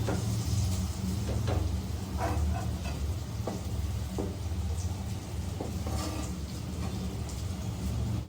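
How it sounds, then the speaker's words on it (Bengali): Dhoka, Bengali lentil cakes, fry in hot oil with a steady hiss and scattered crackles and pops, close and moderately loud throughout. "এরকম ভাবে লাল লাল করে সব ভেজে দেবো।"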